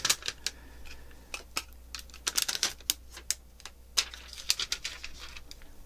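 Protective film peeling off a PiCade arcade screen, a quiet crackling series of sharp ticks and crinkles in irregular bursts, close and alone.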